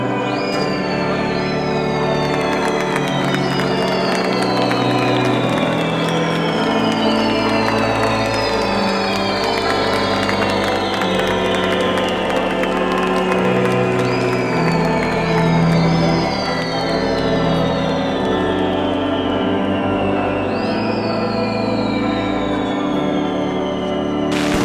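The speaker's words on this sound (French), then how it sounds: "saluée par les applaudissements et la musique de la fanfare couverte par les sifflets et explosions de pétards" A dense, loud outdoor din at a Maltese religious procession: brass band music under shrill, repeatedly sweeping whistles, with crowd applause and firecracker bursts all blended together and sustained throughout.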